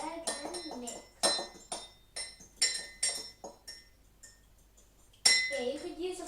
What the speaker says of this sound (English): Stab the egg and mix.